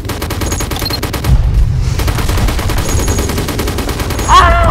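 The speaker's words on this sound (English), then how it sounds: "You're shooting our walls!" Rapid, loud bursts of gunfire from shooters in a Roblox game attacking walls and turrets, dense machine-gun-like volleys close up with a heavier boom near the end.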